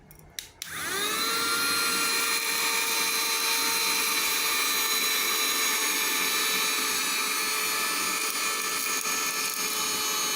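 A portable wireless 2-in-1 car vacuum cleaner, used without its brush extension, clicks on and immediately rises to a loud, steady, high-pitched motor whine and suction roar that holds unchanged to the end, close up with no talking.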